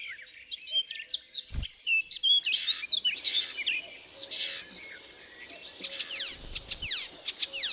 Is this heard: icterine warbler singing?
yes